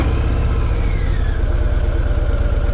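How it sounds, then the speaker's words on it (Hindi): A Harley-Davidson Breakout motorcycle idles right after starting, with a deep, loud, steady engine rumble and a pulsing low throb heard close up and unbroken throughout. "सबसे पहले बाइक को करते हैं स्टार्ट और आप सुनो आवाज़।"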